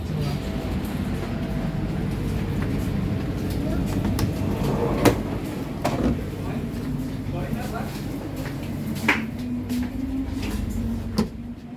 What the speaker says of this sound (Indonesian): kereta api Kertanegara sudah tiba di stasiun tujuan saya, yaitu stasiun Kroya ya